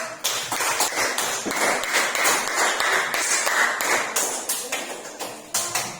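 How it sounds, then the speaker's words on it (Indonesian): Students clapping in a classroom after a group presentation, a scattered, uneven patter of hand claps that continues steadily and fairly close, with no talk over it. "Tepuk tangan untuk"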